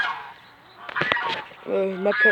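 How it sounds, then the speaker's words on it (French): Domestic farmyard geese honk loudly and close by, a burst of harsh nasal calls near the start and another run of repeated honks at the end. "Mes oies qui font trop de bruit"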